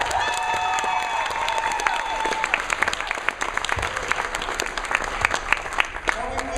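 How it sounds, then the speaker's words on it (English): Applause from an indoor audience at a festival closing ceremony, steady clapping throughout, close and moderately loud, with brief cheering and a sustained musical tone near the start. "So give them a big round of applause."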